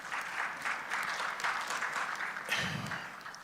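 A room of attendees at a finance summit gives a speaker steady, moderately loud applause, dense clapping running throughout with a brief low thump near the end and no clear talk.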